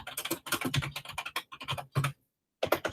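Someone types on a computer keyboard during a live biology review session, producing quick clustered clicking bursts with brief pauses and a short silent gap near the end.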